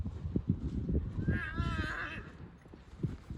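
A horse canters outdoors with thudding hoofbeats, and a clear whinny rises in the middle, moderately close and fairly quiet.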